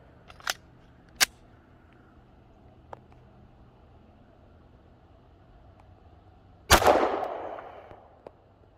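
A .40 caliber S&W M&P pistol fires once into a ballistic gel block, a single loud sharp report with a decaying tail, preceded by a few small clicks and handling taps.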